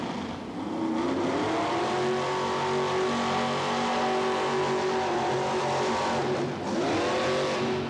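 A truck or tractor pulling engine at full throttle in a 1988–1989 pulling series, a loud sustained roaring drone with a slight pitch sag and a brief dip near the end, with no talking.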